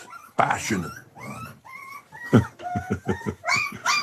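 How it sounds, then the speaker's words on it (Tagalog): Puppy whimpering and yipping up close, a run of high, rising whines and short yelps in quick succession, some overlapping a voice. "Maingay yung tuta eh."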